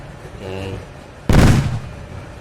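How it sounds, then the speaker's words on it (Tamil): A bomb bursts in a Stumble Guys game round: one sudden, loud, broad blast with a rumbling tail, after a quieter stretch of game sound. "இவங்க வேற கண்ட வெடிகுண்டி போடுறானுங்க மேலே."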